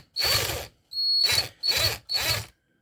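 Four loud bursts of a power drill drilling out the rivets of a Hot Wheels toy car, biting through metal, each about half a second long, with brief pauses between them.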